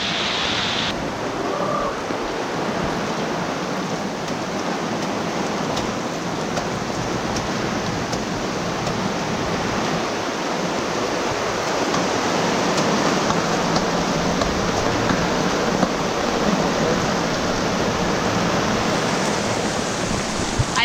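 Heavy rain hammers steadily on the deck of an HR54 sailboat moored off Long Island, a loud, unbroken hiss of drops that holds evenly with no pauses or voices.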